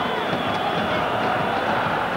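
An Italian stadium crowd at a Juventus–PSG UEFA Cup semi-final applauds timidly, a steady far-off wash of clapping and murmur with a commentator talking over it.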